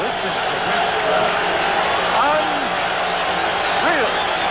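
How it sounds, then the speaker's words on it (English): A big ovation rolls through a boxing arena crowd greeting Roberto Duran, constant loud cheering and clapping with whistles rising now and then, while a commentator speaks over the noise. "What an ovation! Listen to this crowd."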